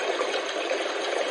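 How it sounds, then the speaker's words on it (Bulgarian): A gadget's water sound mode plays a soft, steady rushing of flowing water, faint and continuous with no voices. "Има звук на вода."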